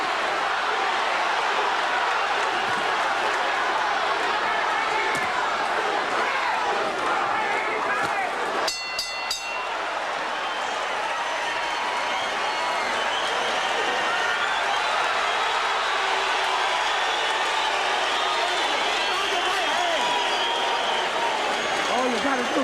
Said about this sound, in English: Crowd chanting, Tommy,